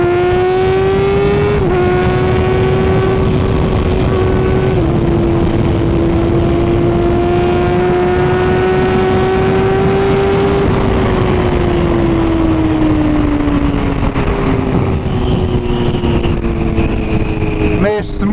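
A Honda CB600F Hornet motorcycle revs hard and accelerates through several gear changes, the engine note climbing and dropping in a loud, continuous wail recorded close up, with wind rush throughout.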